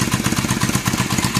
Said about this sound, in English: It sits there and idles nicely.